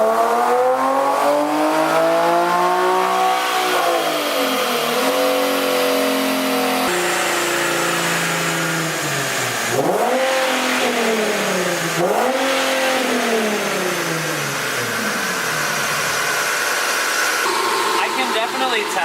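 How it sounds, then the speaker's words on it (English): A Nissan 370Z fitted with downpipes and resonator-style mufflers revs repeatedly on a dyno, engine pitch sweeping up and dropping back in several loud pulls, with a dryer-like roar throughout. "They're mufflers, but they're like more like a resonator, and it sounds like awesome."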